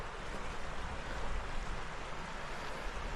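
Fast-flowing river water rushes beside a snowy winter campsite in sub-zero cold, a loud, continuous broadband roar with slight surges and wind buffeting, no voices.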